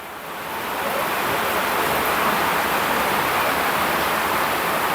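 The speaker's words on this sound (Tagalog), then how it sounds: "grabe, ang lakas ng ulan talaga oh." A heavy June downpour on a rural farm where jackfruit is harvested, producing a dense, steady hiss that swells during the first second and then holds loud and unbroken, with no voices over it.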